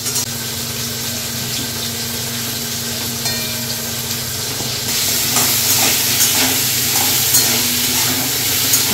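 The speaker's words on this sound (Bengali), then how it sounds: "আলুগুলোকে ভেজে নিই।" Potatoes frying in a pan for a home-style vegetarian dish, a steady close sizzle that grows louder and denser about halfway through, with no one talking.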